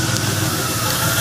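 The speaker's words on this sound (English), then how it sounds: "You can sense that the engine is trying to figure out exactly where it's happy" A car engine idles with a broad, even rumble and hiss, a slightly unsteady hum running close and continuous with no voices.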